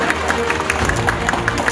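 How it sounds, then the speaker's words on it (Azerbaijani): Applause at a branch opening ceremony, a crowd clapping steadily in a brief burst with a voice talking over it. "Alqışlar zəhmət olmasa."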